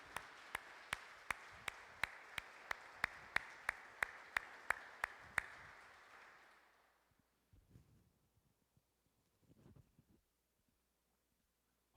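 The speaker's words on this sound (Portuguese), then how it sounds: "Dá uma salva de palmas para Jesus." Rhythmic clapping from a church congregation praising Jesus during a service, sharp regular claps over a broad wash of applause that fades out after about seven seconds, leaving near silence with a few faint stray sounds.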